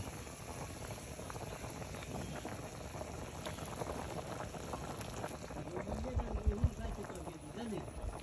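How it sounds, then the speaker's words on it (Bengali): Water bubbles at a steady boil in a pot, a continuous close simmering hiss with people talking over it. "দিদি জল ফুটতেছে"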